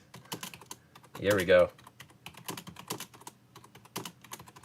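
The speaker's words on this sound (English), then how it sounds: "Oh, see here, I'm typing. You can hear me." Keys clatter on a computer keyboard in quick, uneven bursts of close clicks, while someone talks briefly over the typing partway through.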